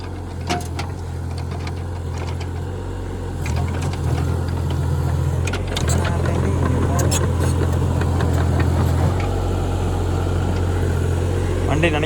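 A Hitachi excavator engine runs steadily, a continuous low rumbling drone that grows slightly louder partway through, with faint clanks and scrapes over it.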